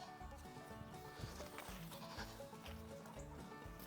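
Several small goats bleat on a farm in overlapping, wavering calls against a busy, steady background, the cries repeating throughout at close range.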